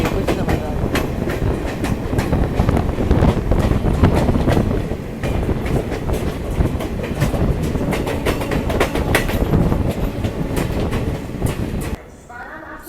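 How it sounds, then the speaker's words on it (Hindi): The Marudhar Express runs steadily on its approach to Kanpur, with a continuous loud rumble and rhythmic clickety-clack of wheels over rail joints that drops away sharply near the end. "कानपुर हमारी ट्रेन पहुंचने वाली है"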